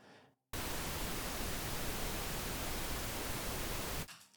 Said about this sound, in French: lorsque je joue du pink noise, dans le fond du bruit rose, la ligne est parfaitement droite